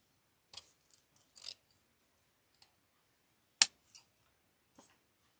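Scissors snip through wreath kit strips in a handful of sharp, close clicks spread unevenly across a quiet room, one cut notably louder than the rest.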